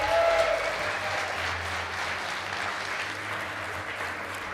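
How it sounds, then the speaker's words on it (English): A crowd at an offline Age of Empires 2 esports event applauds steadily for the Being Esports team, a dense, even wash of clapping that holds at a moderate level throughout. "A round of applause for the Being Esports."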